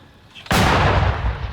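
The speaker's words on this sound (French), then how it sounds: "un César, lui aussi dans la bataille, c'est l'un des canons modernes fournis par Paris" A French CAESAR artillery cannon fires a single sudden, loud, booming shot nearby, its blast ringing out and rumbling for about a second after the sharp onset.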